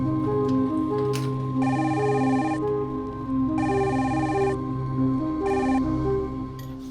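A telephone rings in repeated electronic bursts, three clear rings spaced about a second apart, loud and close over a steady musical background with no talking.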